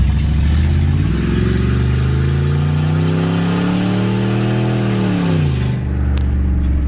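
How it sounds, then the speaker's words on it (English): A car engine revs up loudly as the driver accelerates around a corner, its pitch climbing steadily for several seconds before dropping off suddenly, close and alone with no voices. "I'm going to turn this corner. I'm going to put on some gas. I'm going to let you hear why I feel that way."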